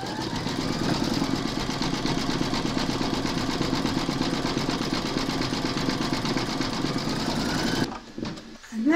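Steady, fast mechanical whirring and needle thumping from a Brother embroidery machine stitching a gold snowflake motif, continuous and close for most of the time, then stopping abruptly near the end.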